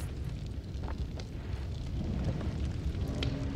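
A dense, rumbling roar of a dynamite explosion and its aftermath in the pixel-physics game Noita, steady and loud throughout with crackling, fiery texture and no clear single blast onset.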